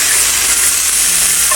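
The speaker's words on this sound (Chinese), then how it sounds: "先把豆角炒下" Green beans hitting hot soybean oil in a wok, giving a steady, loud sizzle and hiss throughout, close by with no talking.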